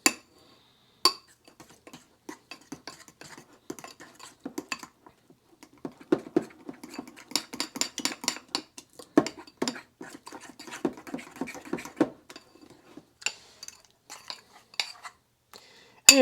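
A spoon scraping and clinking inside a bowl as waffle batter is mixed with butter for a Crownful mini waffle maker, irregular quiet taps and scratches in bursts with short pauses, no talking.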